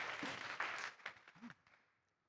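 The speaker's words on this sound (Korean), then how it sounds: "박수 한번 모시겠습니다" Applause from an audience at a Korean talk on a real estate cartel, a short burst of clapping that fades out within about two seconds.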